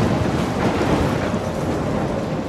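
Heavy thunderstorm in the video game Life Is Strange, a dense roar of rain and wind with deep rolling thunder, loud and continuous, with no voices.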